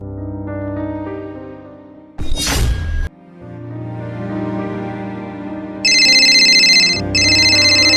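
A mobile phone ringtone playing a melodic tone sequence, loud and close, broken by a short whoosh effect and then continuing with a bright repeating ring pattern in the final seconds.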